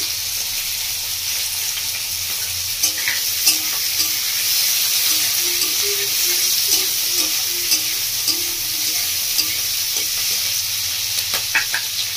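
Cauliflower with chopped ginger, garlic and two cut green chillies frying and being stirred in a pan, a steady close sizzle with occasional scraping and faint background noise, no talking.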